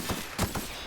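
Gunfire in the video game The Outer Worlds: three quick, muffled shots at an even rhythm over a dense, noisy game backdrop.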